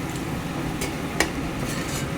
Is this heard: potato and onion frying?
yes